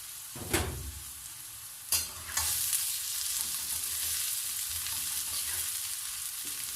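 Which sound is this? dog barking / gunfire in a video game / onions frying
onions frying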